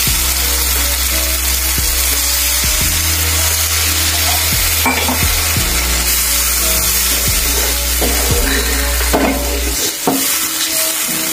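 Hot water poured into sizzling masala for a Bengali katla fish curry, a loud continuous sizzle and bubbling with intermittent clinks and stirring, close up, no talk.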